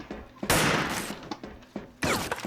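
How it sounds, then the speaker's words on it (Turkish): Pistol gunfire in the online shooter Wolfteam: two loud, sharp reports about a second and a half apart, each trailing off into a crackling decay, with lighter clicks and thumps between them. "O bana tabanca mı sıkıyor?"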